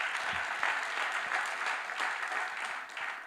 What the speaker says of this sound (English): she deserves more round of applause